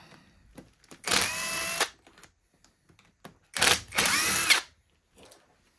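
A power drill backs screws out of a Karcher K2 pressure washer in two whining bursts of about a second each, near and loud, with quiet handling clicks between them.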